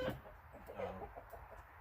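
Guinea fowl around a chicken coop, giving faint, distant clucking calls in short bursts over low background noise.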